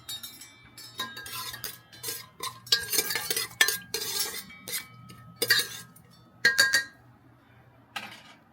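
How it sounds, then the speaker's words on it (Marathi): A spoon stirring garam masala in oil in a metal pan, with repeated scraping and clinking strokes in uneven bursts, close and fairly loud. "चांगल्यापैकी परतायचं."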